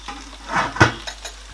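Stew being stirred in a pot seasoned with Maggi cubes and dry chili, giving a few short scraping and clinking strokes that peak in one sharp knock, close and moderately loud with soft background sizzle.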